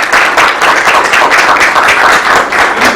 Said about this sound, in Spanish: A los maestros un fuerte aplauso, por favor.